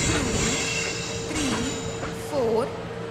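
A video-game train arrives on the Palace on Wheels Special Express in Indian Train Simulator, rumbling with a constant drone and occasional rising and falling wheel squeals, heard without speech.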